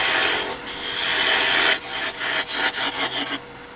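A lathe tool parts off a spinning wood blank, first as a steady, close scraping hiss, then as a series of choppy, pulsing cuts as the tool pushes in.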